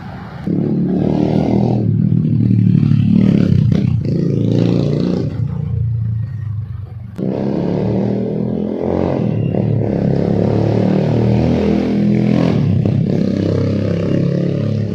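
A Yamaha motorcycle with an upgraded exhaust and an engine bored from 149cc to 183cc revs loud and close, with throaty roaring bursts, a short dip near the middle, then more sustained revving.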